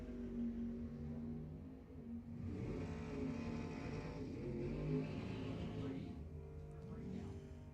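At a drag strip during ET finals, a Plymouth Valiant and a Camaro launch and accelerate, engines roaring at a distance under a race announcer's continuous commentary.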